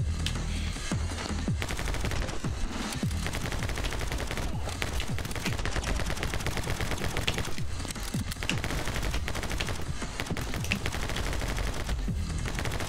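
Relentless video game gunfire from My Friend Pedro, a dense, unbroken stream of rapid shots and bursts layered over each other for the whole stretch.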